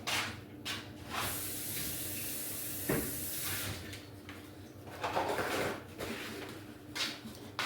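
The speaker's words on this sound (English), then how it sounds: "Let me rinse it out." Water runs and splashes into a blender jar as it is rinsed out in a home kitchen, a steady hiss with brief knocks and shifts in the flow.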